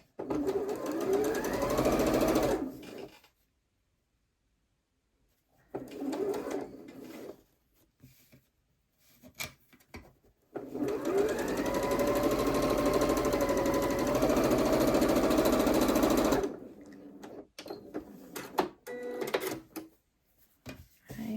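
A sewing machine stitches a quarter-inch seam on a quilt block, running in several bursts of rapid whirring mechanical hum with quiet pauses between them, the longest run lasting several seconds.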